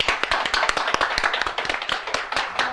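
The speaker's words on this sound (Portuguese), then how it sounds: "Um aplauso, hombre." Applause for a guest on a TV variety program, a small group clapping steadily with some sharper individual claps standing out, close and fairly loud with no talk over it.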